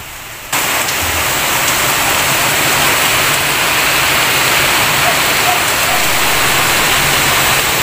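Heavy rain pouring down in a dense, steady hiss that starts abruptly after a brief quieter moment and stays loud and unbroken to the end, with no voices over it.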